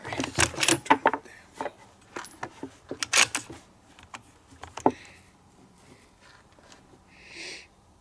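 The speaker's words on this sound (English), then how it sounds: "I'm going to go one click down and one click right" Sharp clicks from the turret of a rifle scope on a Savage rifle being adjusted, a quick cluster of close, crisp ticks early on, then scattered single clicks with quiet gaps.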